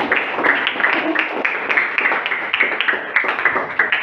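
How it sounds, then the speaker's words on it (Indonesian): Audience clapping for a presenting student group in a classroom, a steady patter of many hands close by, lasting throughout with uneven sharp claps. "Kita berikan tepuk tangan untuk kelompok ini"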